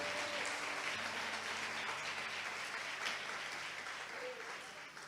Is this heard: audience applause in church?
yes